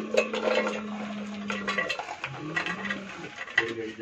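Close, clattering kitchen sounds as a grinder jar is set in place for grinding chutney, with several clinks and knocks against a faint steady hum.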